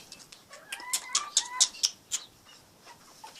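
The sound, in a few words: chicken clucking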